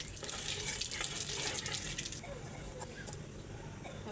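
Water runs into a cooking pan holding fish and raw chilies, a steady splashing, rushing pour that is fairly close and continuous, softening slightly in the last couple of seconds.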